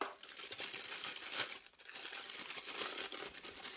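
A plastic bag crinkling and rustling while a smartphone holder is unpacked, continuous close crackling handling noise with no talk.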